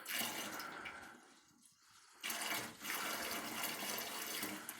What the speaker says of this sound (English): Here's me pouring some more fuel in here.